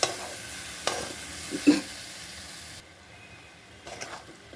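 Dried fish with taro stolons is stirred and fried in a pan, with a few scraping strokes and clanks over a soft, continuous sizzle that drops lower partway through.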